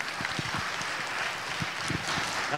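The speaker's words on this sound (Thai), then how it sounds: "ผมขอเสียงปรบมือให้กับวิทยากรทั้ง3ท่านอีกครั้งครับ" Seminar audience on food technology clapping for the three speakers, a short burst of scattered, moderately loud applause with no talk over it.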